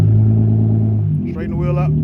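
A car engine idling with a steady low rumble, then rising slightly as a little gas is given, close by while a person talks over it.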